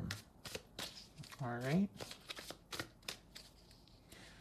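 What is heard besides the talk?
shuffling tarot cards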